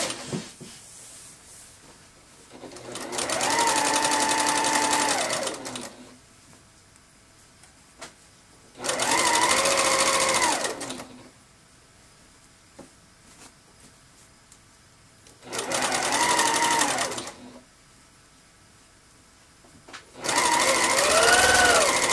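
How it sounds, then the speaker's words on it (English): Regular sewing machine stitching across the band of a scrub cap, four loud bursts of fast mechanical whirring separated by quiet pauses, close up. "one line of stitching that I need to do on the regular sewing machine"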